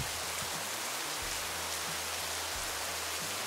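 Steady, dense rain hissing down on a surface, constant and fairly loud with no voices, a low hum faintly underneath.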